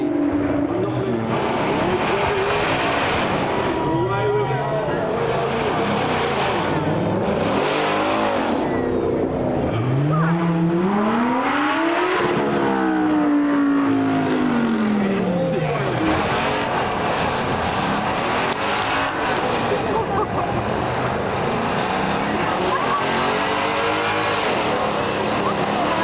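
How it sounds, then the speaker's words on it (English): An Aston Martin Vanquish Zagato shooting brake drives past, its engine note rising and falling in a steady sweep with a clear pitch swoop midway, loud and continuous throughout, with some voices and other car noise around it. "Now for one of the rarest cars, we've got the Vanquish Zagato shooting brake,"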